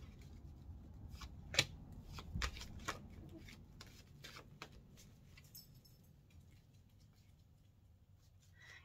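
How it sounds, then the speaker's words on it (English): Cards being shuffled nearby, soft riffling snaps and flicks in short bursts, fairly quiet overall. "Let me be quiet and shuffle for a minute."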